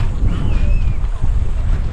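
Strong wind, strong enough to knock down a hut, buffets the microphone in a steady, loud rumble by a river, with gusty roar throughout and no clear pauses.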